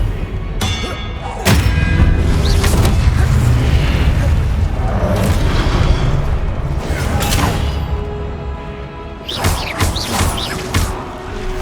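Incendio fire spells cast in Hogwarts Legacy during the Percival Rackham trial, loud whooshing bursts and booming impacts rolling one after another in a steady blaze of combat noise, briefly easing before flaring again.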